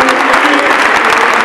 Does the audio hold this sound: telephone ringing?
no